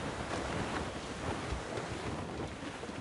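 Strong wind at sea in Assassin's Creed Rogue buffets a sailing ship: a dense, continuous rushing roar with surging gusts, loud and without voices.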